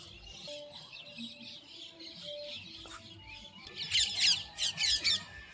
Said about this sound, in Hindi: सारे पंछी अपने बसेरों में लौट रहे हैं